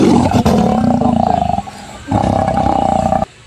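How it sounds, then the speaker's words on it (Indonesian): A lion roars loudly and up close in two long, rough bursts separated by a brief dip, the second roar cutting off abruptly near the end. "Sekarang suara singa."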